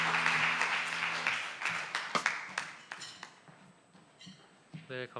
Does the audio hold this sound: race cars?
no